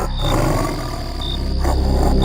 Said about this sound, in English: That sound, it seems to be coming from a large cat.